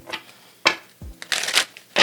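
Tarot cards being shuffled in a few quick riffling bursts, close and fairly quiet, with short pauses between them.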